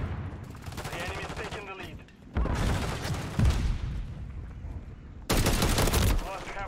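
Sustained battle rifle fire in Call of Duty MW3, dense overlapping bursts of gunshots in a loud fusillade with abrupt cuts between volleys, close and continuous throughout.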